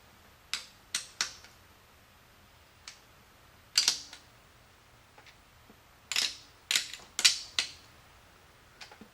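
Ratchet or torque wrench clicks on a 426 Hemi engine build as bolts are tightened in repeated passes, heard as short, sharp bursts in two clusters with quiet gaps between, close and fairly faint.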